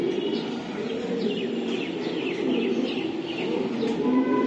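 Racing pigeons of a champion breeder line, a loft of imported-stock birds, coo and flutter steadily under a dense background of chirping birds and faint distant voices.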